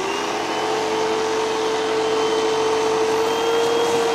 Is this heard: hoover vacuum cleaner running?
yes